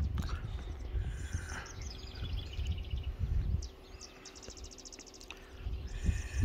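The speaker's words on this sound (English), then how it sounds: "You can hear all the birds in the background." Birds chirp and trill intermittently in the background, with high repeated call bursts over outdoor rumble and faint movement noise.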